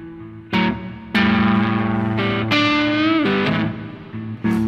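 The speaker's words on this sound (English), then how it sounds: "Attack harder. You hear the distortion comes even harder." Electric guitar fingerpicked through a tube amp with heavy distortion, a handful of hard-attacked blues notes and chords ringing out with sustained, gritty overtones, loud and close with no talk.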